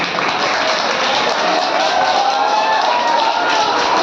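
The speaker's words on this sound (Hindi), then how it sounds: "क्लैप करो उसके लिए।" Students at a 10th standard school farewell clap steadily together, a dense, continuous wash of applause with crowd murmur mixed in, holding at an even level throughout.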